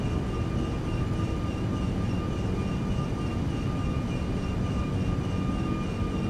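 The jet engines of a ToLiss Airbus A340-600 in the X-Plane 12 simulator roar loud and unbroken during the takeoff climb, a dense steady rumble with a faint whine on top.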